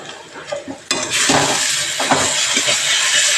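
Spices and grated coconut hit hot oil in a pan while cooking a Bengali potol curry, bursting into a loud, steady hiss of sizzling with occasional clinks of a spoon stirring.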